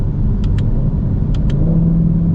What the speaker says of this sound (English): Wow, those gear shifts